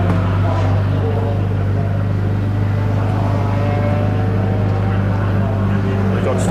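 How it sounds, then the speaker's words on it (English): Race car engine at Brands Hatch during a BARC race meeting, a loud, steady, close, deep mechanical drone with a strong low hum that holds for the whole stretch, with possible voices underneath. "The car is revving."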